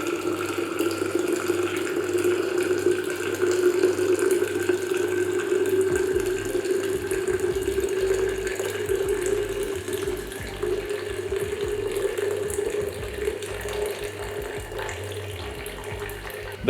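Liquid pours steadily into a 2-litre glass jar for a continuous stretch, a close, even trickling stream with no talking, part of making vegetable juice.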